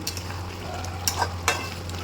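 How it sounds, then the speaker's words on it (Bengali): Chicken pieces fry in a pan with a steady soft sizzle, while a utensil stirs them with a few brief scraping clatters against the pan. "আজকে চিকেন যেটা আমি এইভাবে ফ্রাই করে নেব"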